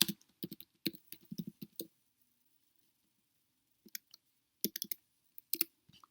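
Bursts of typing on a computer keyboard, quick clusters of clicky keystrokes close by, separated by a quiet pause in the middle.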